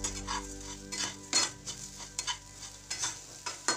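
Poha papad chutney with chopped coriander being stirred in a pan, a spoon scraping and clinking against the metal in repeated short strokes over a soft sizzle, close and fairly quiet.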